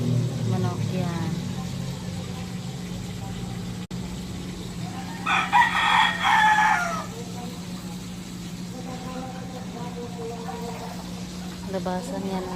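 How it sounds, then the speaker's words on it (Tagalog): A rooster crows once at moderate distance, a loud harmonic call lasting about two seconds, with people talking before and after it. "Manok yan."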